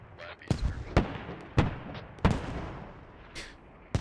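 Mortar rounds land in a Squad firefight, a string of sharp booming impacts about every half second to second with rumbling tails, some near and some farther off.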